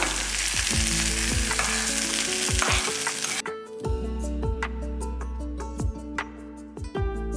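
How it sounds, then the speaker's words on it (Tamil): Dried red chillies and curry leaves tempering in hot oil for a coconut chutney: loud, continuous crackling sizzle with sharp pops, easing into lighter spitting and ticking clicks, close by with no voices. "இதில் காஞ்ச மிளகா ஒன்று ரெண்டு எடுத்து நல்லா கிள்ளிட்டு போட்டுருங்க"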